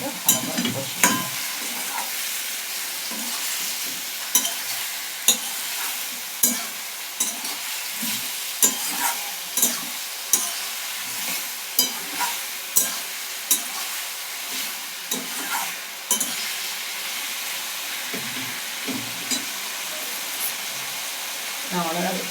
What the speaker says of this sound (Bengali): এবার এগুলোকে ভালো করে কষিয়ে নেব